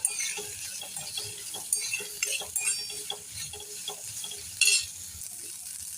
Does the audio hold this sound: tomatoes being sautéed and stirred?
yes